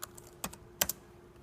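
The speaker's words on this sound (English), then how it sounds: "So I type in 8." A few quick clicks on a computer keyboard as a single number is entered, three or four sharp close taps spaced apart in a quiet room.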